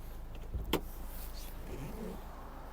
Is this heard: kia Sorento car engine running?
yes